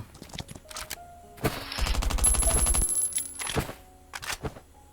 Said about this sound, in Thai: มีเสียงปืนลูกซอง